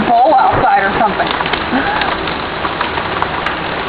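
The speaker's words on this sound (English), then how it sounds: "fantabulous hailstorm here" Hailstorm mixed with heavier rain, a dense hiss of drops and stones striking surfaces outdoors, with people talking over it.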